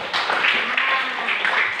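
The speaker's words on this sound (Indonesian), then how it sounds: "Tepuk tangan untuk kelompok anggur" Classroom clapping from students for the grape group, a bright, continuous patter of many small hands at close range, steady throughout with slight swells.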